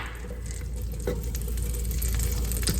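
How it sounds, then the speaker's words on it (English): Butter melting into a few tablespoons of olive oil in a skillet, a steady close sizzle with faint crackles and soft stirring clicks, no talking. "We're also going in with some butter."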